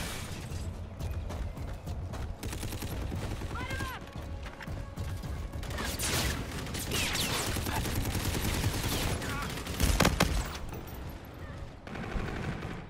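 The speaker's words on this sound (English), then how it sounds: "This gun has no accuracy at all." Gunfire in Call of Duty: Infinite Warfare, dense bursts of rapid shots running through the whole stretch with a louder crack near the end, set among game effects and a talking player.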